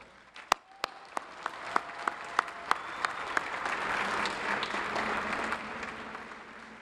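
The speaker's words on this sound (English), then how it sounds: "Please give them a round of applause." At a commencement, a few sharp, evenly spaced claps ring out near the front, then the audience joins in with swelling, sustained applause from a large crowd.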